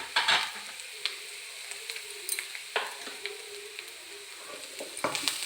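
Food frying in a pan seasoned with turmeric and salt, a steady low sizzle broken by several sharp scraping knocks of a spoon stirring against the pan, close and fairly quiet with no voices.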